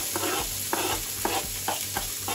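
Chopped onions sizzling in a hot pan, a steady hiss with rhythmic stirring scrapes about every half second, close and fairly loud.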